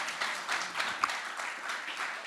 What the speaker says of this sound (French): on peut applaudir Monsieur Bourdin, c'est exceptionnel.